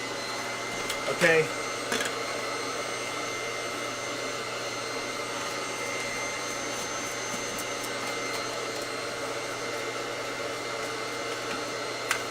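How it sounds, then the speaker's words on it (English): A Dyson V11 cordless vacuum cleaner runs continuously with a steady high whine, close and loud, with a couple of brief clunks early on and a short spoken word over it. "Let me just run the vacuum one more time again, just to be on the safe side."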